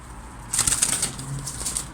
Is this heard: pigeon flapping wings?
yes